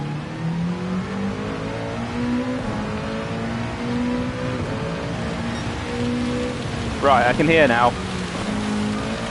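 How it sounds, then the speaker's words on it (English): Heavy rain in a racing video game, a steady hiss spread across the whole stretch beneath a droning car engine that rises and revs, with a brief burst of higher engine whine near the end while someone speaks briefly. "this is heavy rain as well"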